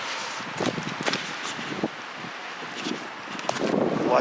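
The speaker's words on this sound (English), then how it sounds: "It's real windy up here too." Gusty wind buffets the microphone with uneven rumbling bursts, and faint rustling comes and goes outdoors.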